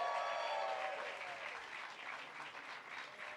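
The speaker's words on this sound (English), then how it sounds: "Give them a huge cheer." Audience at a large sing-along event in Hammersmith gives a short burst of applause that starts full and gradually tapers off, heard somewhat distantly and fairly quiet.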